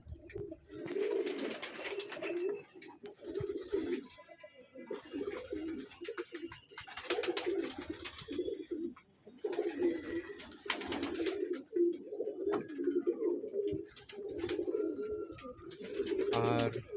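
Pigeons coo steadily in a pigeon loft where many birds sit on eggs and chicks, the soft throaty calls overlapping in a continuous murmur with scattered wing flutters, close and moderately loud, with no talking.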